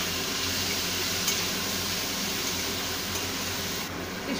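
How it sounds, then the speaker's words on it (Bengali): Stirring in a pan with turmeric as a bottle gourd peel dish is cooked, a steady soft scraping and sizzling that runs continuously, fairly close and alone. "এবার এটাকে আবার একটু নাড়াচাড়া করে দিচ্ছি"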